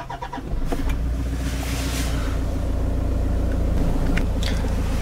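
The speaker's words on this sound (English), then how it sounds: "Just apply the foot brake and hold in the button to start the car." A 2014 Toyota Land Cruiser Prado Business Edition 3.0 D-4D diesel cranks briefly, then catches and settles into a steady, loud idle rumble close by.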